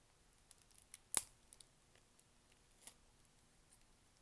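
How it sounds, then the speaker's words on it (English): Packaging of a Botticelli Tarot card deck being opened, heard as sparse, faint clicks and small crinkles scattered over a quiet background, with one sharper snip near the middle. "I'm trying to open this deck."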